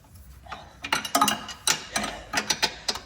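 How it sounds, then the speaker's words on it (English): 19 mm box-end ratcheting wrench loosening a nut on a Jeep Trackhawk's suspension, giving quiet, close, irregular bursts of rapid ratchet clicks with short pauses between strokes and no talk. "Right here, 19 mil box end ratcheting."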